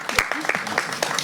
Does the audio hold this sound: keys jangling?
no